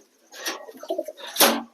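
Yellow American fantail pigeons coo in soft, low bursts, close by, with a louder flutter-like rush near the end; no talking.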